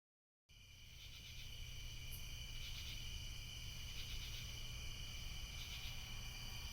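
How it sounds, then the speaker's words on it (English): Crickets chirp steadily in winter woods at night, a continuous high trilling drone that swells in soft, regular pulses over a low background hush, with no voices. "the woods were deathly silent, save for the chirps of crickets and the hoots of owls"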